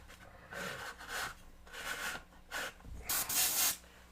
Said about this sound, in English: If you put the airbrush like a 45-degree angle like this, the paint's going to go onto it and then flick off.